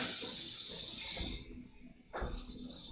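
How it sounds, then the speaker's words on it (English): Cold tap water pours into a container in a kitchen sink, a loud steady rush that cuts off abruptly, followed by quieter handling sounds and a brief splash. "What I'm going to do is I'm going to fill this up with water"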